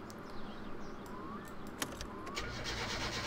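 Car engine cranking and catching in the video game My Summer Car, a short rising mechanical whir followed by a sharp click and a steady low engine idle settling in at the end.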